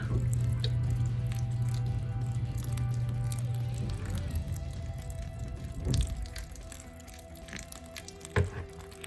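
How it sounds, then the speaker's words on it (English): Water is poured onto a banana peel in a worm bin, giving a steady trickle and splash that tapers into scattered drips and soft squishy sounds, heard close up. "I'm about to add a little water to it right now."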